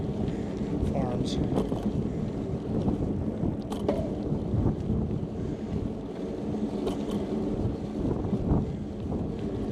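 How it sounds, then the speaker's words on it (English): Wind buffeting a lavalier microphone outdoors in a Colorado town, a steady low rumbling roar that persists throughout with occasional gusty bumps. "wind's blowing a little bit at me right now"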